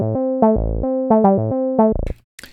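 JC303, an open source emulation of the 303 bass synthesizer, played dry without effects: bright, buzzy staccato notes in a bouncing sequence, ending with a short burst of noisy, gritty sound.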